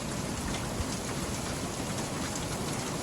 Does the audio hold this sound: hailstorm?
yes